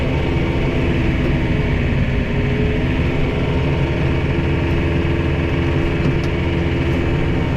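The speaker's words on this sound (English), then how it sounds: "we're going to turn on that blower and shoot up the sides" A snow blower mounted on a John Deere 4052R compact tractor runs with a steady, loud engine drone and broadband mechanical roar, unbroken from start to finish with no speech.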